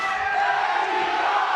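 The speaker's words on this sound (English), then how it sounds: "you hear the crowd chanting Eddie Bravo." Arena crowd at a Metamoris grappling match between Royler Gracie and Eddie Bravo, a loud sustained roar of massed voices chanting together, steady and continuous without a break.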